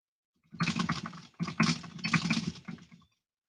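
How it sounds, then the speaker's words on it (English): Keyboard keys clatter in quick, dense bursts, three runs of typing separated by short pauses, fairly close and with no voices. "Let me try typing in here."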